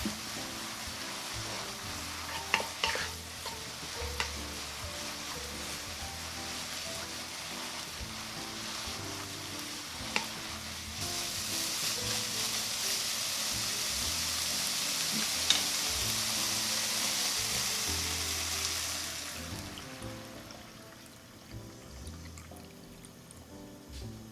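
Sliced beef stir-frying in a pan with half a spoon of garlic and a pinch of pepper, a steady close sizzle with scraping stirs, brightening into a louder hiss midway before settling down.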